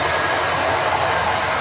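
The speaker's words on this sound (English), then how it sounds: "little train's going to be coming out of the mountain on the single" A small model train on a Granite Gorge and Northern layout rolls out of a mountain tunnel on single track, giving a steady close rumble with light clattering wheels.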